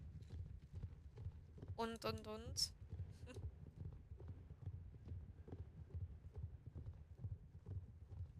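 Horse hooves clip-clopping at a steady rhythm in the online horse-riding game Star Stable, a low continuous gait running throughout, with a brief burst of a voice or call partway through.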